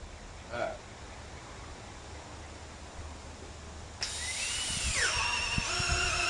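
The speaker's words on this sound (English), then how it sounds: "So I just drill through one side." A handheld power drill spins up abruptly and bores through the wooden top box of a two-frame mating nuc feeder, whining loudly and steadily for the final two seconds after a quiet lead-in.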